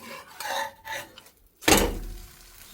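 Lettuce omelette in a frying pan: soft clinks and scraping of the pan and utensils, then a loud metallic clatter as a lid or pan is set down, fading into a low rumble.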